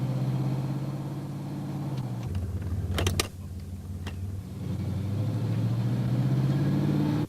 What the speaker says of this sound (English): let's road test the vehicle to see if the transmission is in good working condition